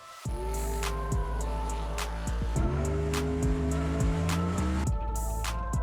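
A Small Block Ford V8 car engine runs loud and steady, holding a rough idle before revving up at about half a second and again partway through. Tire noise is mixed in, and no voices are heard.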